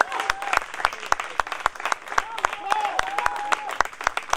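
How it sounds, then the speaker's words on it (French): A few sharp, separate hand claps at a ceremony, close and distinct, with a voice speaking over them and a murmuring crowd behind. "On applaudit pour Kimbirima."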